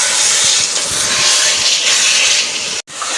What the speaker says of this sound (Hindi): आलू कीमे के सालन में आलू डल चुके हैं और अम्मी जो है इसको भून रही है